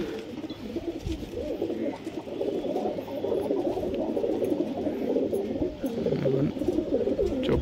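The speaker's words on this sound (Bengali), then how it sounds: "গোল্ডেন ধারি পায়রা।" Golden pigeons kept as high-flyers at a house in Liluah, Howrah, cooing in low, repeated throaty phrases, close and fairly loud, with several birds overlapping over steady outdoor background noise.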